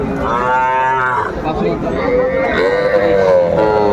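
Young Sahiwal bull calves moo loudly and close at a busy cattle market, two long drawn-out calls with crowd chatter and people talking beneath them.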